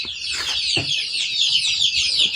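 Free-range village chickens cluck and squawk close by, a busy, continuous chorus of fowl calls with a few brief flaps.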